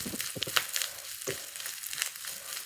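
Grated coconut fries in hot oil with mustard seeds, dried chilli and curry leaves for a Kerala-style tempering, giving a soft, crackly sizzle with a few sharper pops, close and fairly quiet, with no talk.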